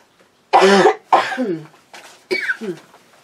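A run of harsh, close coughs, loud and chesty, coming in several separate bursts with short pauses between them.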